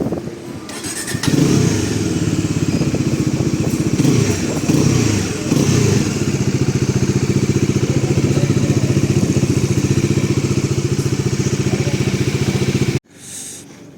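A brand-new Bajaj Dominar 400 motorcycle engine starts up with a quick clattering crank, then runs in a steady, loud idling rumble close by before cutting off abruptly.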